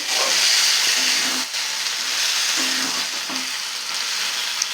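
Spice paste sizzles and fries in a pan while being sautéed for potol dolma, a continuous loud hissing sizzle with a few stirring scrapes and clinks, no voices.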